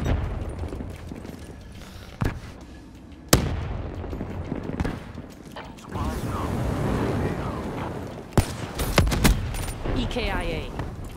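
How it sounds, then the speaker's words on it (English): Hellstorm missile strike in Call of Duty Black Ops 3: loud blasts and heavy rumbling explosions mixed with gunfire, with game voices speaking throughout. "Requesting Hellstorm missile."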